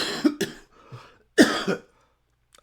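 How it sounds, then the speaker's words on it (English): A few harsh coughs close to the mic in quick bursts, with short pauses between them and a final faint one near the end. "I'm trying not to cough."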